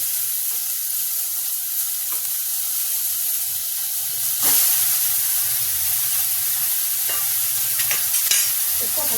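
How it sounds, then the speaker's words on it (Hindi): Jackfruit and potato pieces fry in hot oil in a cooker, a loud continuous hiss with occasional sharp crackles and scraping stirs, a brief surge of sizzle midway; no talking. "कटहल और आलू दोनों में फ्राई कर देंगे"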